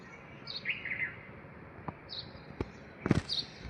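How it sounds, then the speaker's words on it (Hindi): Small birds chirp in short, bright bursts near a nest at a home after overnight rain, several quick calls scattered across the moment alongside a few sharp knocks and low background noise. "हमारे घर में घोंसला बनाए चिड़िया, इतने प्यारे प्यारे चिड़िया आते हैं"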